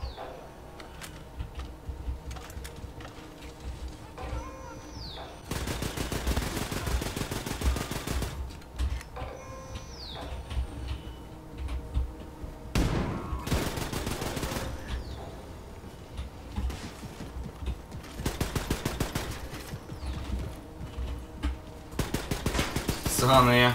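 Bursts of rapid automatic gunfire from the video game Wolfenstein II: The New Colossus, several loud volleys separated by quieter stretches of game ambience and effects.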